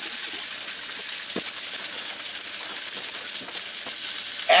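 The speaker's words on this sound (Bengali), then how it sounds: "দিয়ে এটাকে হালকা একটু ভেজে পেঁয়াজটাকে একটু স্বচ্ছ হওয়া পর্যন্তই ভাজবো" Sliced onions sizzle in a pan, frying until soft and translucent with raw cashews about to go in, for a rohu fish tikka masala; a steady, dense, close hiss runs throughout with a few soft stirring knocks.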